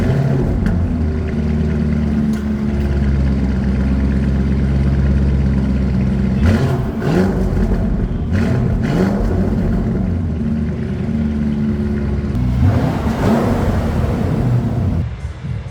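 The V8 engine of a Lamborghini Urus Performante SUV rumbles with a deep, loud, steady drone, swelling in a few brief revs partway through and again near the end, heard close with no speech.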